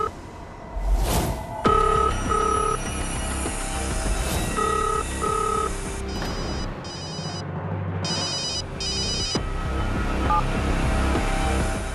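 A telephone rings repeatedly with an incoming call, sounding as a series of warbling electronic tone bursts with short gaps between them. Other sounds in the room run underneath.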